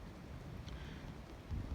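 Low, steady rumble of wind buffeting outdoors, fairly faint and continuous, with a slight gust toward the end.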